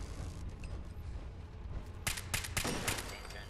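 Gunfire in Fallout 4, a rapid cluster of sharp, loud shots cracking out over a low rumbling game backdrop.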